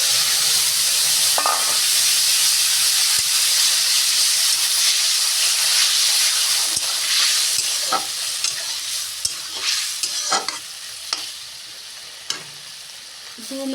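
Helencha greens drop into a hot pan of oil and sizzle loudly, a dense steady hiss with occasional stirring clinks and pops close by.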